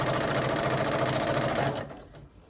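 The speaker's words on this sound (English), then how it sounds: "we're going to sew a 1/4 inch seam down this side" A sewing machine stitches a quarter-inch seam along a fabric edge, its fast, loud, even whir running steadily before stopping abruptly, followed by a few faint handling sounds.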